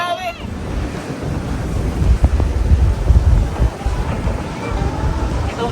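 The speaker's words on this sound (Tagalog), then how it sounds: "Ang lakas ng hangin." Strong seaside wind at Pleasure Pier in Galveston, Texas, buffets the microphone in loud, uneven gusts over a background of surf, with a brief voice at the very start.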